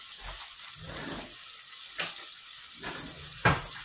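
Food seasoned with oregano fries in a pan for mushroom and chicken cannelloni, a continuous close hiss and sizzle with occasional soft pops and spatters.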